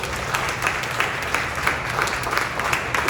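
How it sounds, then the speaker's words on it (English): An audience at a town hall in Durant, Oklahoma applauds steadily, a dense wash of many hands clapping at even loudness throughout, with no talking over it. "let's give the OTIA a round of applause, Devin Bailey."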